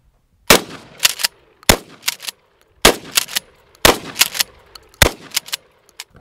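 Real gunshots fire in five bursts of two or three sharp, loud, close cracks each, spaced about a second apart, with brief quiet between them.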